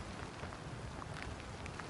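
Steady rain falling outdoors during an archery session, a dense, even hiss of drops on surfaces running close and continuous throughout, with no voices.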